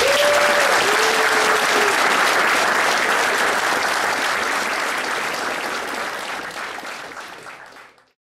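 Loud audience applause following a Q&A panel with anglers, sustained and dense clapping from a crowd that holds steady for several seconds before fading out.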